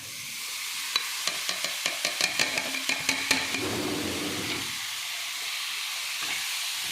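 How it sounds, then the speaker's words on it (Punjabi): Crumbled paneer goes into a hot pan for paneer bhurji, with a burst of sizzling and a quick series of spatula stirring scrapes and clinks over a low flame, then a steady soft frying hiss. "ਹੁਣ ਅਸੀਂ ਇਹਦੇ ਵਿੱਚ ਇਹ ਬਰੀਕ ਕੀਤਾ ਹੋਇਆ ਪਨੀਰ ਪਾਵਾਂਗੇ"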